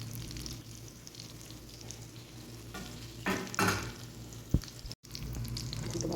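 Raw minced meat kebabs sizzling in a frying pan, a steady close hiss with brief stirring and scraping as they are flipped, no voices.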